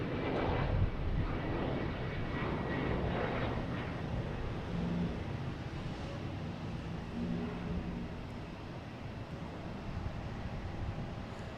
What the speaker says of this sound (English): Next to arrive is a JetBlue coming in from Fort Lauderdale.